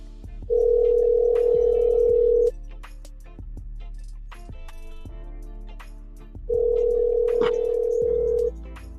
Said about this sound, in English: Let's make a phone call right quick.